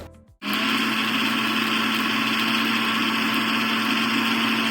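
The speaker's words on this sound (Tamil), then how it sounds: "இப்போ வறுத்த உளுந்த பருப்பை மிக்சர் ஜாருக்கு மாற்றிட்டு நல்லா ஸ்மூத்தாக அரைச்சிக்கலாம்." A mixer grinder jar grinds roasted urad dal smooth: the motor kicks in abruptly and holds a loud, steady whirring drone.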